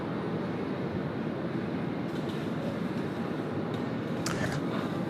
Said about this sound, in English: our A350 of Asiana. Now just here on approach to runway 16 right and cleared to land